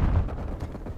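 A grenade blast in Call of Duty Cold War, a single heavy low-end boom with rumbling tail filling the whole second, loud and close.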